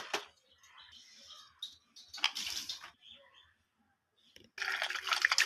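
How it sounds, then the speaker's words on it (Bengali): Dirty water is tipped out of a bowl, giving short splashing pours with pauses between them and a longer burst of pouring near the end, quiet and close. "তো বাটিতে যে নোংরা ছিল এগুলো ফেলে দিলাম, জলটা ফেলে দিলাম।"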